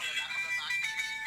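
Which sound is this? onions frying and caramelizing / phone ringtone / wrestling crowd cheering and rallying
phone ringtone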